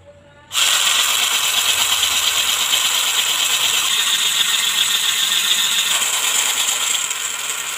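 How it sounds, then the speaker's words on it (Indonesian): A drill boring a hole for the locking bolt on a homemade grinder built from a motor and scrap parts; a steady loud high whine starts abruptly after a brief quiet moment and runs on without talk. "sekarang kita lanjut melubangi bagian tempat baut pengancingnya"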